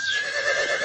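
A horse neighs in one short, loud, shrill whinny that wavers in pitch, close by and heard alone, played as a sound effect on a sports radio show.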